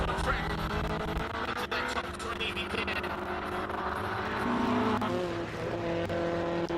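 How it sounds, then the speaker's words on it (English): A Datsun GX Coupe races past during a classic car race at Simola, its engine a steady, loud roar with some tyre noise and continuous crowd and track ambience. "Kilburn in the Datsun GX Coupe"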